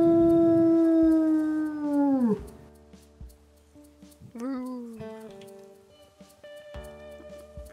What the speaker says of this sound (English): Do another howl.